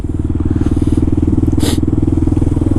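Kawasaki KLR motorcycle in city riding, a close, loud single-cylinder thump pulsing rapidly and steadily throughout, with a short hiss of wind or traffic midway.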